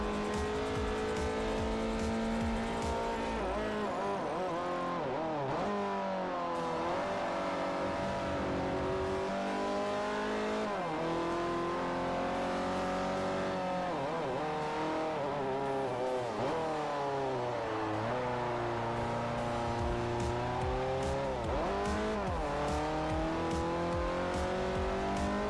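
Sustained Ford Fiesta engine note in Forza Motorsport 4 racing with a manual transmission, loud and continuous with rising revs and repeated gear-shift dips, alone without talk.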